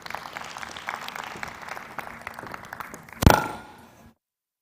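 An indoor audience at a smart card launch event claps in a steady patter that swells into a loud burst before cutting off abruptly.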